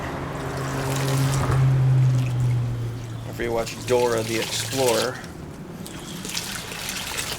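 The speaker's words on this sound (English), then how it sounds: "Okay, so we got water in there." Water pours into a potted tomato plant in a garden, a steady trickle and splash heard under a man's loud nearby speech.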